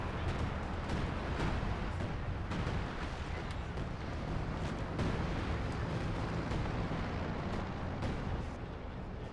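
Artillery fire in a real-time strategy game match, a dense continuous rumble of repeated booms and blasts layered over one another at steady loudness throughout.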